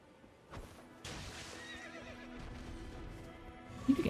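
A horse in the video game Elden Ring lets out a loud neigh and gallops off, with clattering hoofbeats continuing at moderate volume under the game's ambience.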